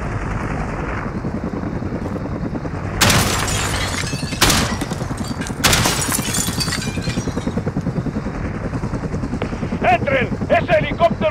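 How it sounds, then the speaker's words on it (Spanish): An attack helicopter in Call of Duty: Modern Warfare drones steadily with a rhythmic rotor thump, broken by several loud blasts and crashing impacts, amid battlefield noise. "¡Ese helicóptero nos hará pedazos!"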